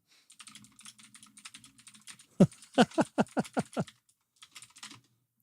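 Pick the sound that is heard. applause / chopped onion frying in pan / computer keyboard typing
computer keyboard typing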